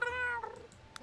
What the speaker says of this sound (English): And I think we can keep the lower meow like that.